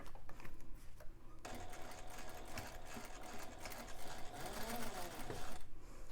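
A sewing machine runs in one continuous steady burst, stitching the exterior seam of a Loule bag with a long stitch length, close and fairly loud, starting after a short quiet pause and stopping near the end.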